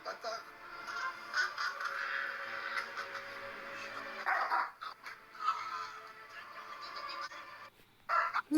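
A dog barking and whimpering indoors, with yips and whines in uneven bursts close to the microphone, sometimes under a person speaking.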